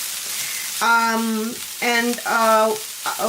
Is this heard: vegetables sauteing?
yes